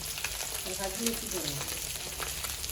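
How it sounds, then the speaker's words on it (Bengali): Fish frying in a pan at home, a dense continuous sizzle and crackle heard up close, with faint background voices and a few clinks mixed in. "এখানে মাছ ভাজা হচ্ছে"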